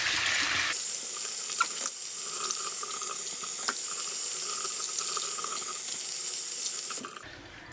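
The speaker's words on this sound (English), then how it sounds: "I'm just going to use some water to go ahead and rinse off the gel from my face" Running tap water splashes steadily into a sink while gel is rinsed off a face, a close, continuous broadband rush that holds for about seven seconds before cutting off.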